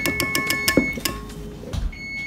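An oven timer gives a run of quick, evenly spaced electronic beeps in a home kitchen during keto pumpkin cheesecake baking, followed by a couple of clunks and one more tone near the end.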